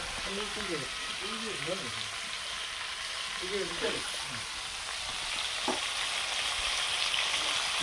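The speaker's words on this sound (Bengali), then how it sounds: "ছোট ভাই চিংড়ি মাছ চাপিয়ে দিয়েছে উনুনের উপরে।" Shrimp sizzling in a pan on an outdoor wood-fired stove, a steady loud frying hiss filling the whole clip, with a voice chatting briefly in the background early on.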